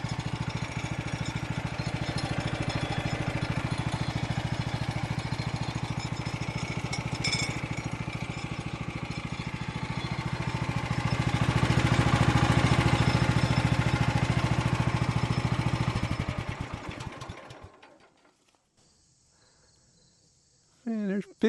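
A small engine on a Norwood portable sawmill runs at a steady idle with a continuous buzzing drone and a slight rise midway, then cuts out, leaving near silence with a brief noise at the end.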